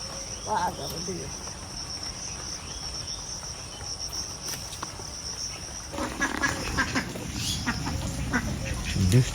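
Ducks quack intermittently at a rural pond during rain, the calls moderately near over a dense, constant chirring of crickets and a soft patter that thickens toward the end.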